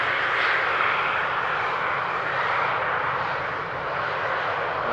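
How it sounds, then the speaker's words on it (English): KLM City Hopper Embraer jet rolling along the runway toward the first exit at Amsterdam Schiphol, a steady, fairly loud broadband engine roar that holds level throughout with no talk. "The City Hopper vacating the runway here."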